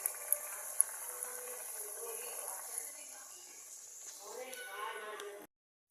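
Potato chops (alu chop) frying in mustard oil, a soft steady bubbling sizzle heard close up, with faint clinks near the start and the sound cutting off abruptly at the end.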